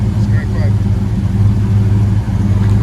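A 1975 Chevy Monte Carlo with true dual exhaust and Flowmaster 40 Series mufflers idles nearby, a steady low burbling rumble with no revving.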